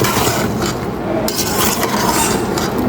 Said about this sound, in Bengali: তো আর কিছুক্ষণ কষিয়ে নেব তারপর হালকা একটু ঝোল দিয়ে দিব